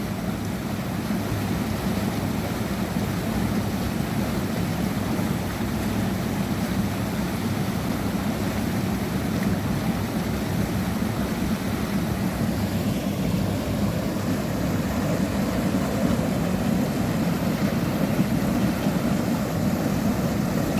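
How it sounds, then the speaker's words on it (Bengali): Water flowing steadily along a forest route from Jhargram toward Belpahari, a constant broad rushing wash that stays even and moderately loud throughout, with no voices. "খালি চুপ করে কিছুক্ষণ এই জলের আওয়াজ"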